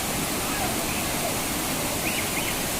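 Benki Falls, swollen in the rainy season, roars as a dense, unbroken wash of rushing water close by and loud throughout, with faint voices barely showing beneath it.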